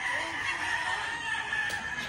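A seven-month-old stag rooster crows once, loud and close, in a single drawn-out call with no talk around it.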